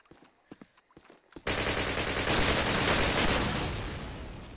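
A few scattered sharp clicks give way to a sudden loud roaring burst of weapon fire in the video game Call of Duty, sustained for about three seconds before tapering slightly.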